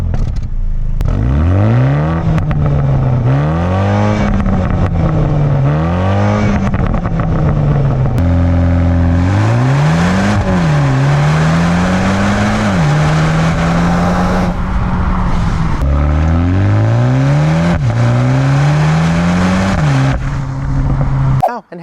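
Exhaust of a 2022 MINI Countryman John Cooper Works, revved repeatedly from idle. Loud, close rises and drops repeat in a rhythmic series over a steady rumble.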